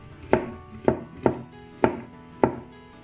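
A knife slices mushrooms on a wooden chopping board, five crisp, evenly spaced thuds with short decays, close and clear with no talk.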